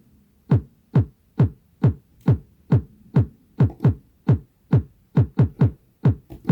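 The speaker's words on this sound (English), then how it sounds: "Kick sounds like this." Kick drum sample from an electronic music production, repeating as a steady four-on-the-floor pattern of deep, punchy thumps with short decays, heard alone and up close with no voices.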